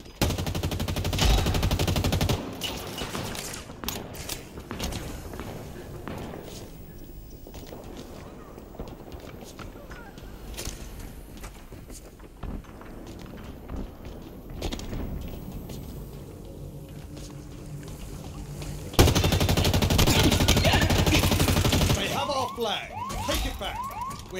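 Rapid automatic gunfire bursts in a Halo Infinite capture-the-flag match, loud and sustained across the whole stretch, mixed with electronic game effects and announcer voice callouts.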